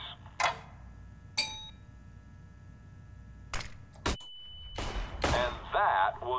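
Pistol shots at targets in CS:GO, a handful of sharp, separate cracks spaced a second or more apart over quiet background, with metallic clicks, a tone and a voice talking near the end.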